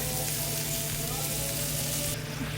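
Ground meat sizzling loudly in a hot pan for a walking taco, a steady, close, dense frying hiss that runs without a break, with no voices.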